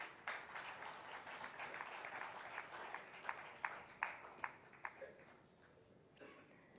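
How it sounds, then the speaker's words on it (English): Congress audience in New Delhi applauding as the chairperson comes on stage, a steady wash of clapping with a few sharper near claps standing out before it thins out at the end. "Let's welcome him on stage with a huge round of applause."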